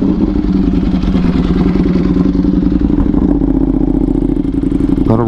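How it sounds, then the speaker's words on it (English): A 2023 Ducati Panigale V4R engine idles loud and close after a warm start, its steady throbbing rumble continuous, with a sharp rev rising right at the end. "Let's get this cold start going."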